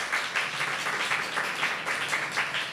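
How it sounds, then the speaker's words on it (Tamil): Church congregation at a Tamil Christian service claps together in praise, a steady wash of many hands with gentle rhythmic swells, fairly soft and without talk. "ஆண்டவருக்கு ஒரு நல்ல கரகோஷம் கொடுக்கலாமா?"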